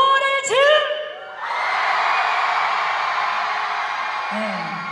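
A large outdoor crowd at an opening ceremony concert in Pyeongchang roars and cheers in a sustained, loud wave, with a sung or shouted voice before it and another brief voice near the end.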